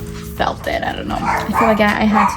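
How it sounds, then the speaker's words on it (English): A dog barks and yips a few times in the background indoors while someone talks continuously over it. "That's my dog."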